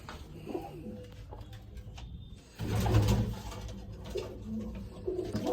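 Pigeons coo softly nearby in low, rolling calls, with a rustling burst of movement midway and faint chirps in the background.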